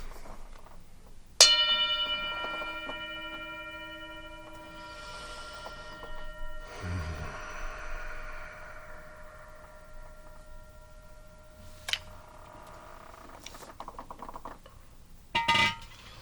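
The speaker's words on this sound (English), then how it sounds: "So I'm going to ring the bell. Listen carefully." A single meditation bell struck once, ringing with a long, slowly fading shimmering tone, followed by faint rustles and a couple of light clinks.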